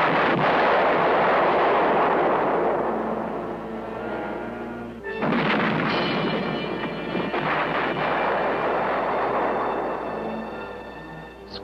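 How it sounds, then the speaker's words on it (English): Demolition charges blast through underground military caves and tunnels during the 1955 Tachen Island evacuation: a long, loud rumbling roar, then a second heavy detonation about halfway through that rolls on and slowly fades. "The last explosives in place, the charges were set off."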